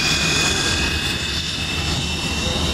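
A Hawker Hunter T7 jet engine being started by its cordite cartridge starter at Bruntingthorpe, heard from a double-glazed control cabin: a loud, sustained whine and roar with steady high tones over a rumbling base, unbroken throughout.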